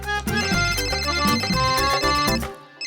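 A mobile phone plays a melodic ringtone, bright repeating tones with a rhythmic beat, loud and close for about two and a half seconds before stopping abruptly.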